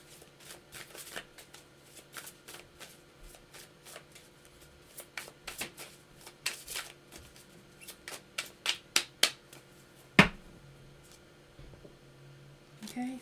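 Elemental Oracle card deck shuffled by hand, a run of crisp riffling bursts that grow louder and quicker, ending with a sharp snap of the cards, close and alone.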